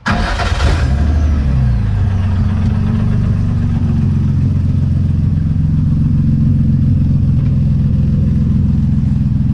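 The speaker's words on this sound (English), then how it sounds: "So you do hear a very slight misfire right now" A Nissan VQ engine swapped into an S13 flares briefly at the start, then settles into a loud, steady idle close by, with a slight misfire in its rumble.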